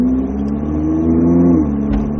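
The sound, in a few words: Ferrari 458 accelerating on race track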